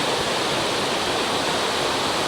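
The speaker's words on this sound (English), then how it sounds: "get the shots of the waterfall coming down and actually dropping" Waterfall in Springbrook National Park pouring down in a continuous, loud broadband rush of falling water, steady and unbroken, with no voices.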